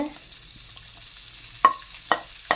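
Onions frying in oil in a pan: a soft, continuous sizzle with three sharp stirring clicks near the end.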